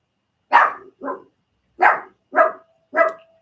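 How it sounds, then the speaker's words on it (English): A dog barks in a quiet room, five sharp barks in uneven bursts, close and loud with silence between them. "My dog's barking at him."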